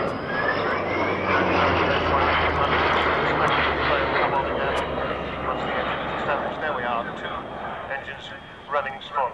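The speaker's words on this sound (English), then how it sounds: "And there's the engine starting again." A propeller aircraft's engine restarts during an airshow pass in 1991, a droning roar that swells loud as the plane comes close and then thins slightly, with a commentator talking over it.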